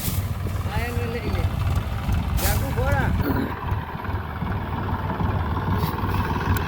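A tractor engine rumbles steadily at low pitch throughout, while a person talks over it in the first half.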